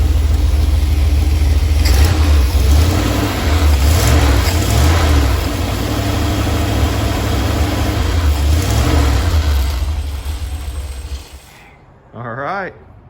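An engine idles steadily at about 800 RPM with a low rumbling throb and a constant whine above it, while a voice talks over it, until the running drops away near the end.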